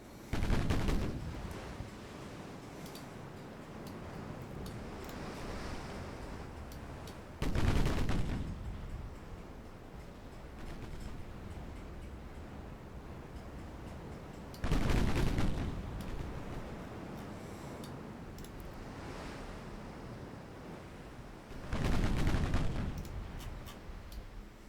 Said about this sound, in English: I can hear the battleships firing in the background